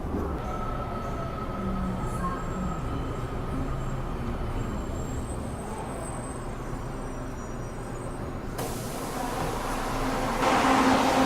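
An LRT light rail train runs through Metro Manila, a continuous rumbling ride with faint high squeals, swelling into a louder rush of wheel and track noise in the final seconds.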